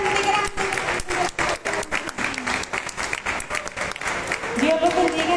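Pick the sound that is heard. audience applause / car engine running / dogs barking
audience applause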